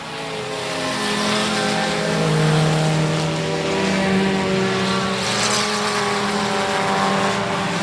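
Race cars roaring around the I-37 Speedway track, a loud continuous engine drone with overlapping pitches rising and falling as the cars pass, close and sustained throughout.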